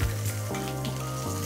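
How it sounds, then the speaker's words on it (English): Steak sears loudly in a hot pan after being flipped, a dense steady sizzle running through the short moment with no voices over it. "now we have an identical sear on both sides"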